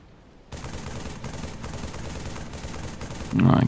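Rapid gunfire from the video game Halo MCC (Halo 2) erupts after half a second of near quiet and rattles on steadily, with a louder burst near the end.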